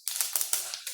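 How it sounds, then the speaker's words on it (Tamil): Mustard seeds splutter in hot oil with a quick cluster of sharp crackling pops, close up, with no talking. "எண்ணெய் சூடாயிடுச்சு. கடுகு போட்டு நல்லா பொரியணும்"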